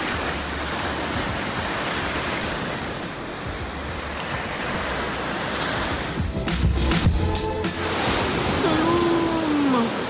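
Calm ocean surf washing steadily along the beach at Tulum, Mexico, a continuous broad wash of water with wind, briefly joined by a passing low tonal hum near the end.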